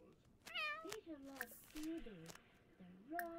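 A Sims 4 pet cat meows repeatedly, several rising and falling cries close up, spaced with short pauses and sitting above a faint game background.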